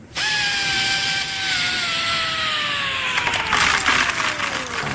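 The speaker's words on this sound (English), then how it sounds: "Plug in the drill." An electric drill runs loud and steady at close range, its whine sliding slowly downward in pitch as it bites into the work, with a rougher grinding texture toward the end.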